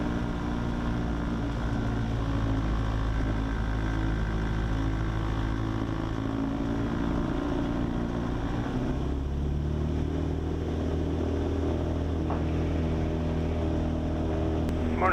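A Cessna 172 light aircraft engine drones steadily during takeoff, heard loud from inside the cabin. The tone and power shift partway through, and the engine stays continuous with no talk over it.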